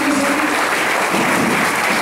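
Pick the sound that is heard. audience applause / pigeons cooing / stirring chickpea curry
audience applause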